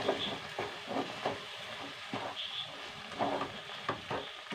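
Rava upma is stirred in a pan with soft scraping and a faint sizzling hiss, quiet and close, with intermittent spoon strokes and no talking.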